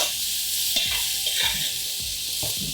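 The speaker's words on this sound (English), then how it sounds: "Just toss this in the butter and oil for a minute, not more." Chicken tossing in hot butter and oil in a pan gives a steady close sizzle, with a few scraping stirs and clatters as the pieces are turned. No one speaks.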